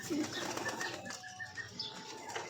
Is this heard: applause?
no